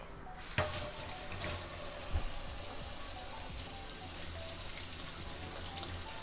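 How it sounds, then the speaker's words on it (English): A kitchen tap runs steadily as a knife is rinsed under the stream, a continuous close wash of water with a couple of small knocks near the start. "Rinse off the knifey."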